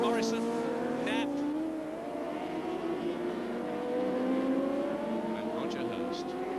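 Late-1980s 600 supersport motorcycles racing at Carnaby circuit, a steady high engine whine sweeping past with rising and falling pitch as several bikes go by, heard under a commentator's ongoing talk.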